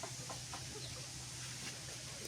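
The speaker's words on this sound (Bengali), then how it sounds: "এই দেখেন মুরগির বাচ্চাগুলো কী অবস্থা।" Chickens and chicks on a farm, soft clucking and faint peeping over a steady low hum, fairly distant and quiet with no talking.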